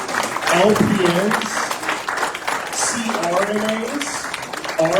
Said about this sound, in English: so keep clapping.